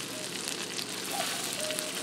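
Continuous crackling sizzle of chicken frying in a hot skillet, steady and close, with no talking.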